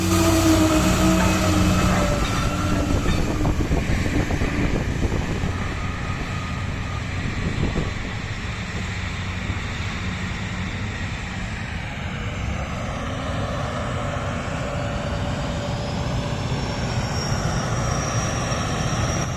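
A heavy mining truck flooring it while dumping about 520,000 pounds of gravel, a loud continuous engine roar and rumble mixed with a rushing gravel wash, steady throughout with no voices.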